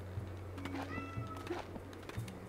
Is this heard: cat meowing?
yes